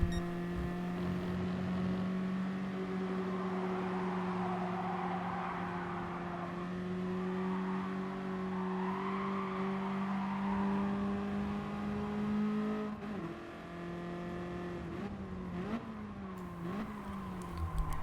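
A BMW race car engine in a racing video game drones steadily at high revs, its tone shifting with gear changes and lifts near the end as the car drives off a corner, with no talking over it.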